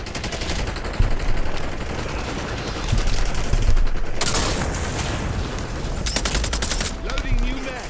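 Rapid bursts of automatic gunfire and scattered single shots crackle through a shooter video game match, loud and continuous, with a voice talking faintly underneath.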